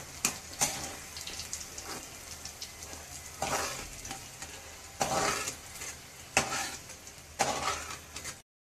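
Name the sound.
okra frying crisp in a pan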